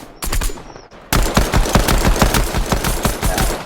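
Rapid video-game gunfire from a pistol in a shooter: a brief shot, a pause, then a dense run of about fifteen sharp, loud reports in quick rhythm, with no voices.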